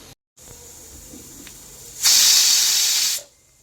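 A pressure cooker holding chicken for masala fry lets out a single loud burst of hissing steam lasting about a second, starting abruptly and cutting off sharply, after a quiet lead-in.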